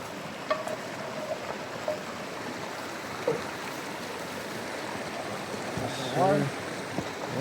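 Water flows in a small stream outdoors, a constant close trickling wash with a few light knocks and a brief splash near the end.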